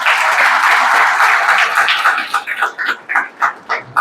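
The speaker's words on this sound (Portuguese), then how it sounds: "Quem merece uma salva de palmas aqui, Alzeni?" Loud crowd applause at a government economic results presentation in Piauí, Brazil, dense at first, then thinning into scattered separate claps that fade out.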